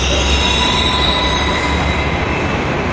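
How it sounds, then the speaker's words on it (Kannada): A metro train rolls into Jalahalli metro station in Bangalore close by, with a loud, steady rumble of wheels on rails and a thin metallic squeal running throughout. "ಮೆಟ್ರೋ ಬಂತು ಅಂತ ಕಾಣಿಸುತ್ತೆ"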